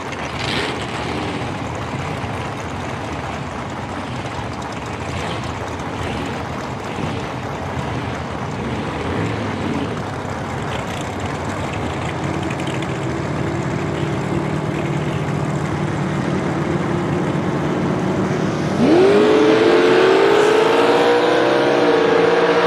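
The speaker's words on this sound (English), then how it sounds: "Second generation S10 truck with a 372 cubic inch small block Chevy." Drag racing launch at a dragstrip: a second-generation S10 truck with a 372 cubic inch small block Chevy against a Fox Body Mustang. A steady, loud engine roar builds, then a sharp rising whine cuts in near the end with no talk.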